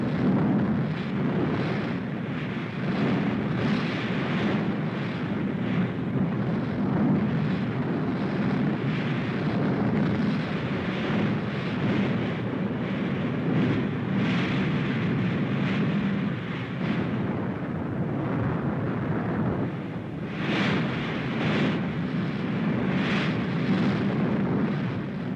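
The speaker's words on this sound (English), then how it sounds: "Rocket guns, Katusha, the Russians call them." Katyusha rocket launchers fire in WWII archive footage, a sustained roaring barrage of rushing whooshes and rumbling blasts, dense and continuous with a few sharper bursts near the end.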